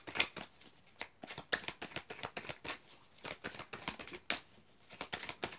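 Tarot cards are shuffled by hand up close in a run of crisp, rapid riffling flutters and soft slaps, repeating steadily without speech.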